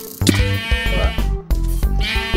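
Sheep bleat repeatedly in Minecraft, with several wavering calls in a row and a short gap partway through.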